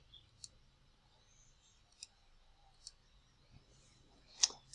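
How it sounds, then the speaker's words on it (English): Computer mouse clicks during on-screen software editing: five sharp, isolated clicks spaced about a second apart, the last a louder double click, over a quiet low hum. "Click on that again."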